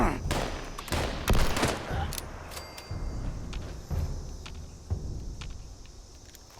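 A robot gun fires in Fallout 76, with repeated sharp shots that come in quick bursts and then scatter, loud and close, amid faint clatter and footsteps.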